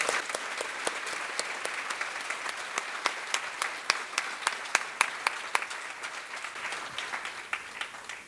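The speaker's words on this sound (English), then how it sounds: "So can we do one more round of applause for all of you?" An audience at a YWCA event applauds in a steady, dense wash of clapping that holds at an even level for several seconds, with a few sharper individual claps standing out and no talking.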